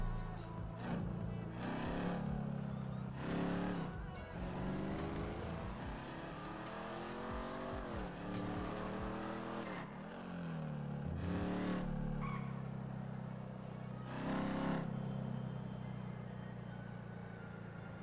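A Mustang in GTA V revs hard and accelerates, the engine note climbing and dropping through gear changes, with tire squeals and bursts of loud noise over the steady car roar, no talking.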